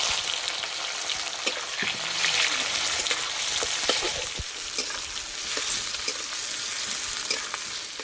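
Onion and tomato frying in hot oil left over from frying potatoes, a steady loud sizzle with scattered crackles and occasional stirring knocks, no voices.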